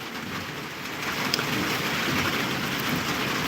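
Steady rain falls as a dense, even hiss, growing slightly louder after the first second and continuing without pause, with no voices.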